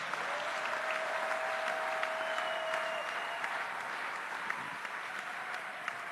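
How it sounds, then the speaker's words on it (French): A church congregation claps and cheers in a steady, dense wash that holds for several seconds at an even level, with a faint tone running through the first half. "Mais vos acclamations sont timides"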